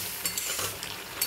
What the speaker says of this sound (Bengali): একটু গুঁড়ো গরম মশলা দিয়ে দেবো। ভালো করে নাড়িয়ে নেব।